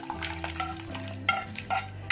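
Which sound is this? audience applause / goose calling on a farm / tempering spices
tempering spices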